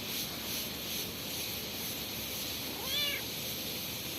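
A cat gives one short, faint meow at night, heard once against a steady hiss of background noise with no talk.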